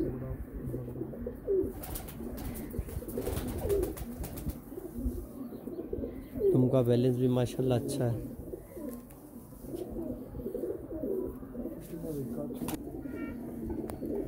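Pairs of large Teddy golden pigeons kept at a house coo in soft, repeated phrases close by, with a brief louder burst midway, while someone talks over them throughout.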